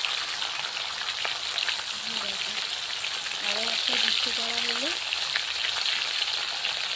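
Rohu fish heads rubbed with turmeric and salt fry in hot oil, a dense, even sizzle running throughout at close range, with a voice talking briefly over it.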